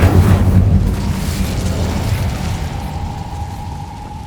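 In the Hogwarts Legacy video game, the Incendio fire spell bursts with a loud, deep whoosh and boom that decays slowly into a fading rumble and a faint tone.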